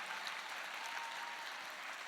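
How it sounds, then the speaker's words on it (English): Steady applause from a crowd, sustained clapping throughout at moderate volume. "Big round of applause for them as well, please."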